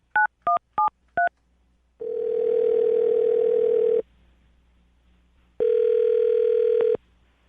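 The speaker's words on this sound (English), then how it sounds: "I'm going to dial the phone number right now" Telephone being dialed: four quick touch-tone beeps, then two long steady ringback tones separated by a pause, clear and close with no voices.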